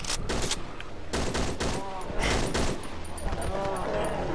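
Shotgun blasts in the horror video game Cry of Fear, several loud broadband bursts spread through the clip under people talking.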